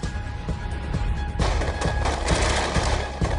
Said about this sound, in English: the Americans unload a barrage of gunfire, killing him